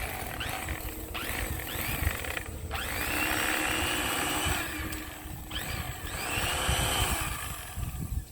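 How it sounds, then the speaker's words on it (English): A disposal unit at a fish cleaning station grinds up fish scraps with a loud, continuous mechanical whir that rises and falls in pitch as it works, heard up close and with no talking. "It's like a giant garbage disposal."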